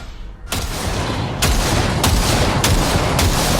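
A sustained burst of automatic gunfire at a shooting range in Cyberpunk 2077 starts abruptly and keeps up a dense, loud roar. Sharp cracks stand out at regular intervals of about half a second.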